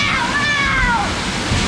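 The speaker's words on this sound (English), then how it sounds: "A lot of water features here." Water splashes and rushes continuously at an indoor water park's big-kids play area full of water features, loud and close, with a voice talking over the spray and a descending squeal.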